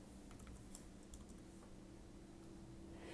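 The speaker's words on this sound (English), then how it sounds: "I'm going to type -35 here." Typing on a computer keyboard: a quick run of light key clicks, close and fairly soft, over a steady background hum.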